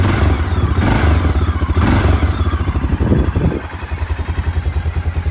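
A 2001 Honda NX650 Dominator, a carbureted single-cylinder motorcycle with 23,000 miles, idles close by with a steady, lumpy thumping pulse and mechanical clatter, dipping slightly in level partway through.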